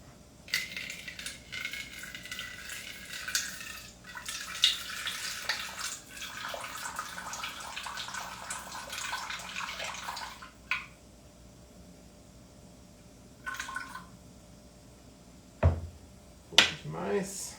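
Water poured into a bowl for whole wheat bread dough makes a steady splashing stream for several seconds, then a few short trickles and small knocks follow, close by and moderately loud.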